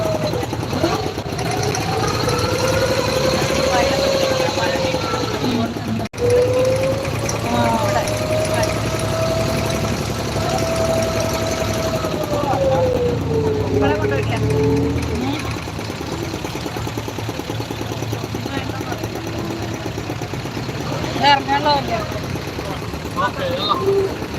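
A boat engine runs steadily and loudly through a boat trip, a continuous mechanical drone and knock that stays close throughout while voices talk and call over it.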